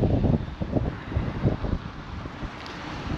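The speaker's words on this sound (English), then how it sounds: "Mom, what do you think of this wind?" Strong gusting wind buffets the microphone at a westbound roadside landmark stop, a steady low roar with rougher bursts throughout and no speech.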